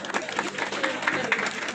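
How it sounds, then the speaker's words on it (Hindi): An audience at a Bhagwat Katha religious gathering claps to welcome a guest, with dense, uneven clapping that holds steady throughout, mixed with some crowd voices. "इनके स्वागत के समय ताली बजाओ"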